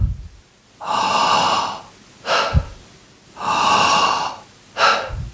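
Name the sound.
deep breathing, exhaling through the mouth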